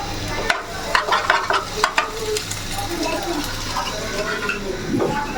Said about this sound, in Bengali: বাবা নুডলস রান্না করতেছে যে।